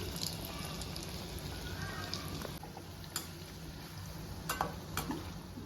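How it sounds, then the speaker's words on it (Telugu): Sweet gavvalu, a crisp fried dough snack, frying in hot oil as a second batch goes in; a steady, dense sizzle and bubbling runs throughout, with occasional sharper pops and crackles near the pan. "ఈ విధంగా ఫ్రై పెట్టుకున్నాం ఫ్రెండ్స్ ఇప్పుడు నేను ఇది వచ్చేసి సెకండ్ వాయి వేస్తున్నాను"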